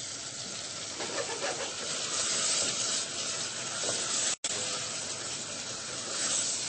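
Browned butter, chestnut-coloured, is poured sizzling over chickpea and chicken fatteh, giving a loud steady hiss and crackle that runs for several seconds. The sound cuts out for a moment near the end, then resumes.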